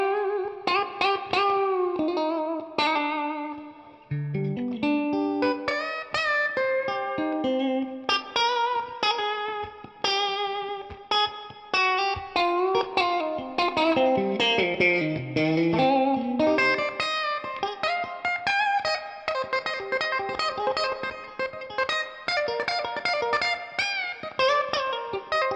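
A Fender Custom Shop Stratocaster with a super heavy relic finish played through a slightly crunchy, reverberant tone, a melodic run of single notes and chords moving up and down the neck, steady and clear with no voices.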